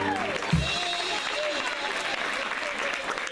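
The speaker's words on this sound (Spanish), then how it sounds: "para quien pida un fuerte aplauso" Audience applause for dancer Marisa Brito at an Arab dance show in Argentina, a steady dense clapping from a crowd that holds evenly throughout, with a brief low thump near the start.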